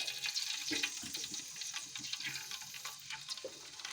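Curry leaves frying in hot oil for a Kannur-style country chicken curry, giving a steady crackling sizzle with bright spattering pops throughout, close and fairly quiet, with no talk.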